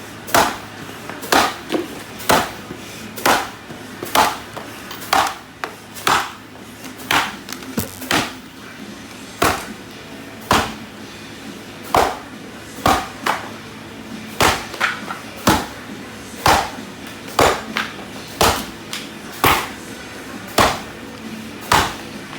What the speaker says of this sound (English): now I'm going to cut a 41-inch pine. It's firm, so I'm going to use one of the axes.